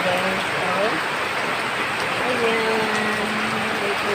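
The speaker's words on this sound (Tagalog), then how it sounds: "May ulan na." Steady rain pouring down outdoors, a dense even hiss throughout, with a voice talking over it.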